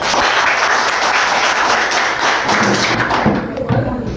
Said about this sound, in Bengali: ওনার জন্য একটা করতালি হয়ে যায়।